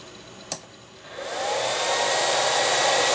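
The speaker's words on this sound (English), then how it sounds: "The fan is louder because this doesn't have the temperature, the thermal switch installed" A Dell 2850 server power supply, broken out and missing its thermal switch, clicks on, then its fan spins up to a steady, loud whooshing roar that continues alone.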